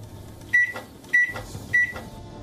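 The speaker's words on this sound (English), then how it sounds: "The beeping sound of a microwave to our ears is a mere signal that our food is hot and ready to be consumed" A microwave oven beeps three times, evenly spaced about half a second apart, each tone short, bright and close, with a faint hum between the beeps.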